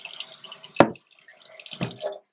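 Water is poured into a rice cooker, a couple of short splashing pours separated by quieter trickling, close and clear with no talk.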